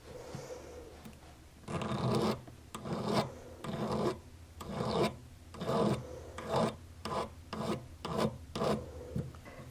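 A metal file rasps across the freshly cut end of bracelet wire in about a dozen short, rhythmic strokes, close and fairly quiet, with brief pauses between passes and no speech.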